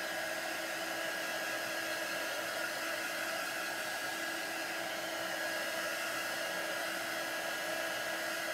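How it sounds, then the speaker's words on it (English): A handheld heat tool blows steadily and continuously, a constant airy whir like a hair dryer drying a layer of chalk paste, close and unbroken for the whole stretch with no talking. "So I'm going to dry this with my heat tool for just a minute."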